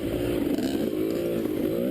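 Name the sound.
dirt bike engine riding on trail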